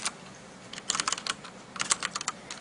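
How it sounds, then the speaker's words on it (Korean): Typing on a mechanical keyboard: irregular bursts of crisp keystroke clicks, close and fairly quiet, alone with no voices. "기계식 키보드네?"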